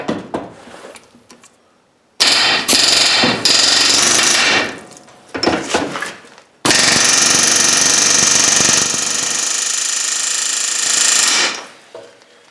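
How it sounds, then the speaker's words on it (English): Loud pneumatic air hammer firing in sustained bursts on a rusted universal joint, a short rattling burst followed by a long continuous run, with brief pauses between. "Let's try an air hammer"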